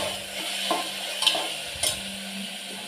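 Washed curry leaves tossed into hot oil in a pan sizzle steadily, with a few soft stirring clinks and scrapes rising over the continuous hiss.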